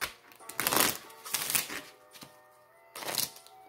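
Tarot cards being shuffled in short riffling bursts, three or four quick flurries with brief pauses between them, close and fairly quiet.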